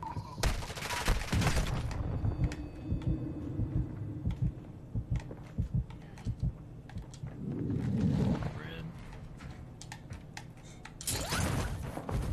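First-person shooter gunfire in a game comes as bursts of loud, rapid shots at the start and end of the stretch, with scattered single shots and game noise between them.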